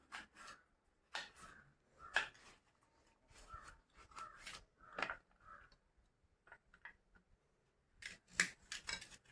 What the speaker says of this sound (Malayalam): അടുത്തായിട്ട് ചുട്ട് തന്ന പണിയാണ് ക്യാരറ്റ് അരിയുക എന്നുള്ളത്